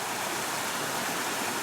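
A stream flows steadily along a forest hiking trail in the Black Forest area, producing a continuous soft hiss of rushing water at moderate distance with no voices.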